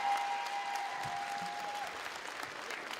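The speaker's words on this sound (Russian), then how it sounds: "они слышат ваши аплодисменты," Sustained applause from the audience at a 2018 KVN comedy game in Ufa, Bashkortostan, a dense, even patter of many hands clapping at moderate distance without pause.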